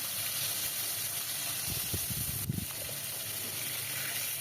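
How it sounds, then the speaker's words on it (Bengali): Pangas fish pieces frying in hot mustard oil over low to medium heat, a steady bright sizzle with a short burst of low bubbling and spatter in the middle. "লো টু মিডিয়াম আঁচে রেখে মাছগুলো ভেজে নেব"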